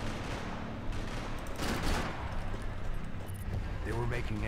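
Gunfire in Max Payne 3 multiplayer free-for-all: a busy fusillade of shots crackling behind someone talking, steady and moderately loud throughout.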